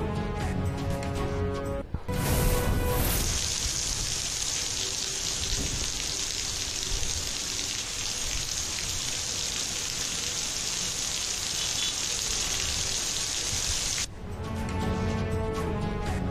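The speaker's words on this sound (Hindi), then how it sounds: "सिंध के मुख्तलिफ इलाकों में वफके वफके से बरसात।" Rain falling in Sindh, a loud, dense wash of drops that keeps up steadily for about twelve seconds, set between other audio at the start and end.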